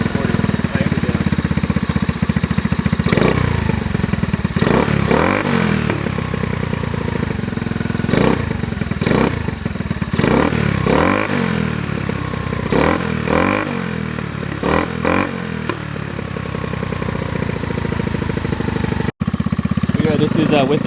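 A 2022 Honda Navi motorcycle with a custom exhaust, baffle in, idles loudly and up close, broken by a series of sharp rising revs that fall back to idle.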